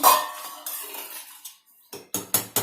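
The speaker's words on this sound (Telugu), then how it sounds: "ఒక 2 మినిట్స్ మళ్ళీ మూత పెడతాను నేను" A metal lid set onto a cooking pot of simmering butter chicken: a few sharp clanks and rattles, close and moderately loud, the last ones coming in a quick series of separate knocks.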